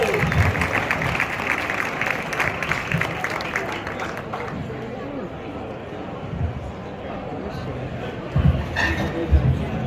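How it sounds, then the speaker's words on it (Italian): Audience applause for the Don Milani folk group of Dorgali, Sardinia, a steady dense clapping wash over ten seconds that thins midway and swells again near the end, with crowd voices mixed in. "Quindi un grande applauso al gruppo folk Domilani di Dorgali."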